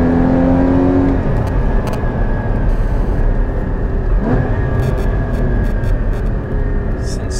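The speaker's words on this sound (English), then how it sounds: "It is so addictive driving this car at speed." A Porsche Cayman 981 GT4 with a manual gearbox and PCCB carbon-ceramic brakes, fitted with a PSE sports exhaust, drives at speed. Its engine drones loud and steady throughout, with the pitch shifting as the revs rise and fall.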